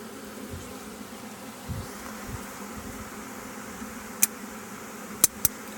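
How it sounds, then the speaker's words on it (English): A honey bee swarm fanning hard, a steady close buzzing drone that fills the whole stretch, broken by a few sharp clicks near the end, with no talking. "These bees are fanning like crazy right now."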